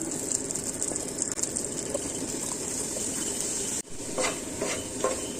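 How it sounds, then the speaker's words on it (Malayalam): Paneer cubes shallow-fry in butter in a pan, giving a steady close sizzle with stirring, a brief dip partway, then renewed crackling. "നമുക്ക് ഈ പനീർ ഇട്ട് കൊടുത്ത് ജസ്റ്റ് ഒന്ന് ഫ്രൈ ചെയ്തെടുക്കാം"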